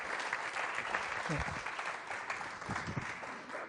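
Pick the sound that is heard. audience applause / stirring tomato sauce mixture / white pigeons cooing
audience applause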